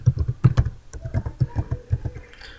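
Computer keyboard keys tapped in quick irregular bursts while an email address is typed, close and fairly quiet, with no talk.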